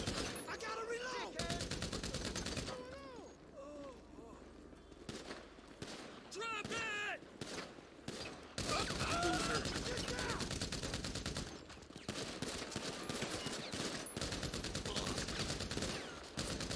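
Sustained gunfire in Grand Theft Auto V, rapid automatic bursts and volleys in a firefight, loud and dense with brief pauses, mixed with shouted voices.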